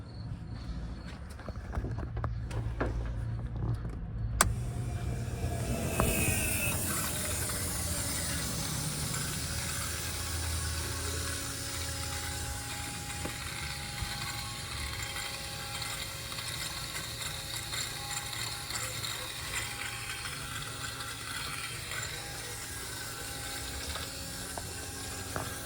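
Fuel system of a car converted from throttle body to multiport injection, gurgling and hissing steadily after the fuel pump switches on, a continuous watery rush that swells after a few seconds and keeps going at moderate level.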